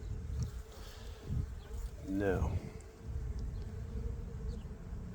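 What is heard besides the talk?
honey bees buzzing around hive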